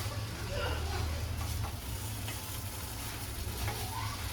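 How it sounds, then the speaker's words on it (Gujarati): Beaten rice (poha) with potatoes and lemon juice stirred in a pan: soft, faint scraping and a light sizzle over a low, steady hum, with a voice talking. "હવે આપણે એને હલાવી લઈશું."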